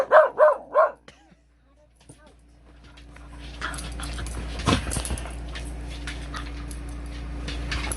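A dog named as bad lets out three quick loud barks close by, then after a pause whimpers and yips faintly over a steady low engine-like hum aboard a boat docked at Great Bridge, with a person talking.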